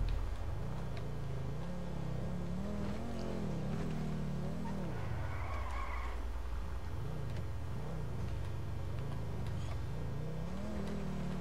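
Car engine in GTA 5 revving steadily throughout, rising and falling in pitch as the game car accelerates, loud and continuous with no talk over it.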